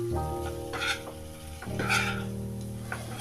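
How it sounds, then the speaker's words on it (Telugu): Prawn fry stirred in a hot pan, with a continuous oily sizzle and the scrape of the spoon several times over steady tonal background noise. "కొంచెం నీరు దాంట్లో వాటర్ పోయేదాకా కలబెట్టుకోవాలి బాగా"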